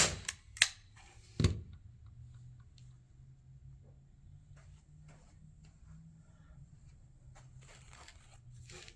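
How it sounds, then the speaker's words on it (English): A staple gun fires a few sharp, close snaps into a sign on a Valentine mesh wreath, with two quick shots near the start and a louder one at about one and a half seconds, followed by quiet handling. "So just going to staple this down."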